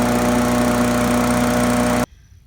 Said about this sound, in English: Push mower. I haven't used it in a long time, but I think I can get it to work around the pear trees.